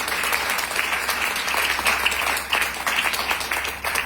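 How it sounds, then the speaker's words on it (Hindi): Audience applause at an IMC network marketing business seminar, a dense steady wash of many hands clapping that runs throughout at fairly close range. "मैं चाहूंगा एक बार शानदार ताली होनी चाहिए आईएमसी के लिए"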